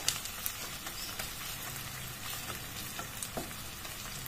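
Onions fry in a pot over a low flame with a steady, fine sizzle and crackle, and faint stirring scrapes come through from time to time.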